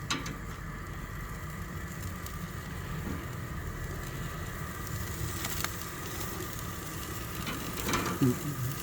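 Chicken frying in ghee over a backyard barbecue, a steady close sizzle with low background hum and a brief clatter near the end.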